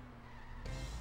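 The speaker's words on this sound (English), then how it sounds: "we're going to hop into our car over here and drive to the movie theater" A car in The Simpsons Hit & Run video game driving and skidding, a brief engine whine that swells into a louder tire screech toward the end, lasting about a second.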